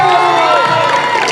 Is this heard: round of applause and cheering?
yes